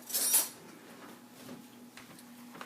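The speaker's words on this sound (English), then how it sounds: "Let me just grab a spoon so I can stuff my shells." A metal spoon grabbed from a kitchen utensil drawer gives a bright, close clink of cutlery at the start, followed by faint scattered taps and rustling over a steady low hum.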